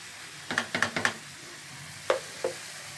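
Chicken and onions frying in a pan, with a faint sizzle under a few sharp scraping stirs of a spoon, three quick strokes followed by two more after a pause.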